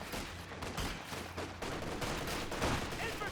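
MG34 machine gun fire in a Company of Heroes 2 match, rapid bursts of shots crackling over steady battle noise, with a voice talking over it.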